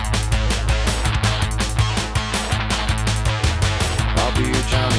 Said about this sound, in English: That boom is another synth.